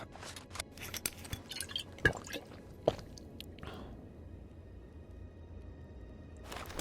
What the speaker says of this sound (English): And let's neck that down with some actual proper water